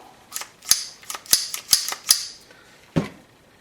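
A Browning Buckmark .22LR pistol being function checked: a series of sharp, close metallic clicks and snaps, about half a dozen spaced roughly half a second apart, then a single louder clack, with no talking.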